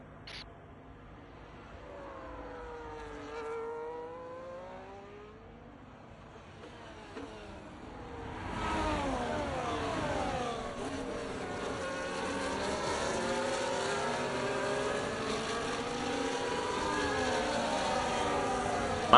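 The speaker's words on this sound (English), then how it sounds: "Massive train of cars covering the entire top 12." Formula 1 race cars in an F1 video game at Singapore, engines whining past one after another with rising and falling pitch, a faint single car at first, then a dense train of cars droning continuously.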